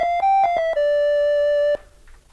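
A short run of bright electronic organ notes from a 1980s Bontempi BK 32 keyboard on its second, brighter tone setting, several quick steps ending in one long sustained note, close and alone.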